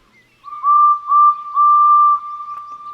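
A clear, high steam train whistle sounds three times in quick succession, the last blast held longest, loud and alone against silence.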